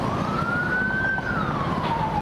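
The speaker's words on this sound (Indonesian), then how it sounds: "ambulans lewat, jadi minggir dulu" An ambulance siren passes close in road traffic and is heard from a motorbike. A single loud wailing tone rises and then falls as the vehicle goes by over steady road noise.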